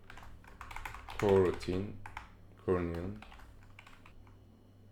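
Keyboard keys clatter steadily while someone writes game code for shooting multiple bullets, the clicks sitting under and between bursts of nearby speech.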